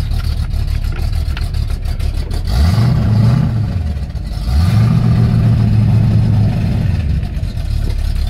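An XC GXL car engine under restoration, with a carburetor needing adjustment, runs on its own power. A loud, steady rumble rises and falls through two drawn-out revs, close by and with no talking.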